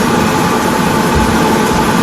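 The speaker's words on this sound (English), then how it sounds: "And the kettle boiling in the background." Kettle boiling in a home kitchen while curry cooks: a loud, steady roar with a rushing, rumbling quality fills the whole short clip, close and unbroken, with no talk.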